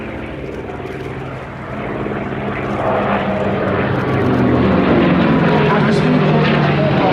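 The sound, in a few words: propeller fighter aircraft flying in formation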